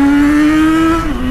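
A Yamaha XJ6 motorcycle accelerates on the road, its engine note holding a loud steady tone that climbs briefly before dropping as a gear changes, heard close with no talk.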